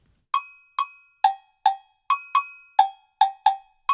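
Ijexá pattern on an agogô bell, ten bright metallic strikes mixing low and high tones, with singles and tight pairs in a repeating groove, played up close and unaccompanied.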